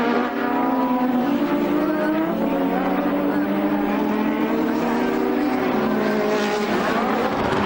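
Formula One race cars at the Brands Hatch British Grand Prix, engines wailing in sustained high-pitched whines that rise and fall as several cars race past at close range, with commentary talk running over the engine noise.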